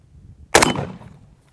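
A single sharp, loud M1 Garand rifle shot is fired outdoors at close targets. It cracks nearby and leaves a short echoing tail that fades within about half a second.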